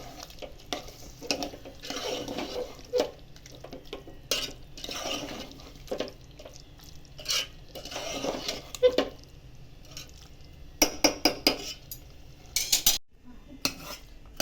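A spoon stirs bitter gourd curry with spices, salt and a little water, giving repeated scraping and clinking against the pan in bursts, close and fairly clear, with a sharper run of clinks near the end.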